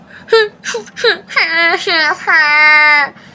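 A Minecraft character cries in a video game, with whimpering sobs and then two longer wailing cries, close and fairly loud, over quiet background noise.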